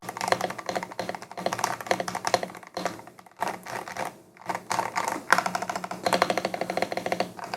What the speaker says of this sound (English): Let me give a quick little type test here.